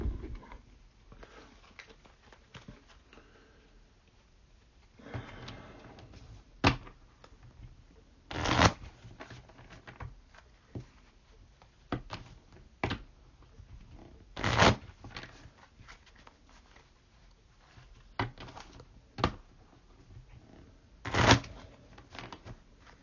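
Cards for a wargame scenario shuffled by hand in a run of soft, papery riffles with sharp snapping bridges at intervals, close and steady over a quiet background with no talking.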